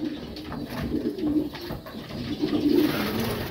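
Pigeons in a loft coo softly with repeated low, throaty calls at close range, in an otherwise quiet setting.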